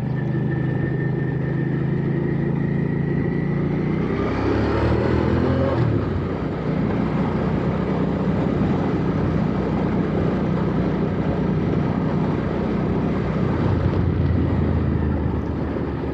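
A stock-exhaust Hyosung GV650 Aquila motorcycle being ridden, its engine droning steadily under heavy wind rush, with a rise in revs partway through.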